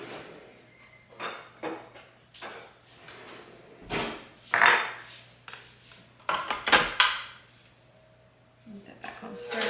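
Spoon scraping and knocking around a bowl while stirring a baking mixture in a farm kitchen, intermittent clinks and rubbing strokes with pauses, a person talking between strokes.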